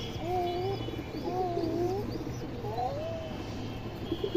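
A female pigeon cooing nearby, three soft rising-and-falling coos in slow succession over a low steady hum, with faint background noise and no clear talk.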